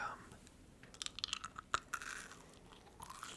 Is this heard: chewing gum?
yes